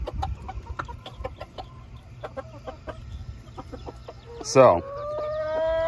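Chickens cluck in short, scattered bursts nearby, with a loud squawk near the end; a person says a word briefly.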